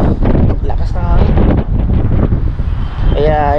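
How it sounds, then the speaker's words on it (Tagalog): Strong seaside wind buffets the microphone in a steady, loud rumble throughout, with someone talking over it. "dyan banda seaside na yan eh, kaya lakas yung hangin dito."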